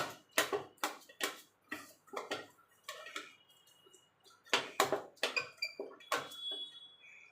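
Knife chopping bitter gourd on a cutting board: a series of sharp, close taps in an uneven rhythm, each a crisp click against the board, with quiet gaps between cuts.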